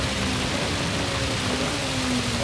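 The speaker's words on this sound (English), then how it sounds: "About to get into a little bit of heavy rain." Heavy rain during a World Touring Car 900 race at Spa Francorchamps in a racing video game: a dense, steady wash of rain noise with a faint engine drone underneath, continuous and loud throughout.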